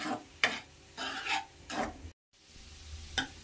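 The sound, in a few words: stirring flattened rice (poha) with jaggery in a pan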